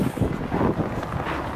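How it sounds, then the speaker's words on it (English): Strong wind batters the microphone during a snowstorm, a loud, continuous low rumbling roar with uneven gusts and no voices. "but it's windy, like a lot of wind."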